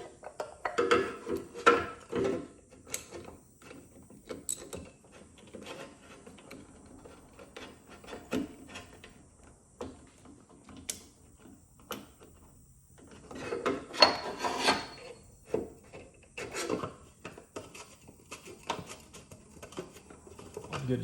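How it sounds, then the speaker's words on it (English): Quiet, intermittent rubbing, scraping and light clicks come from the oil filter housing of a Porsche Cayman 981 GT4 as it is handled and threaded back on by hand, close up and with pauses between sounds. "We're about to put the housing back on."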